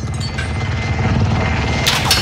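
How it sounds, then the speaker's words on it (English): Helicopter in the video game Call of Duty: Modern Warfare, a loud, steady rotor drone filling the short stretch, with sharp bursts near the end. "Can we just kill the helicopter?"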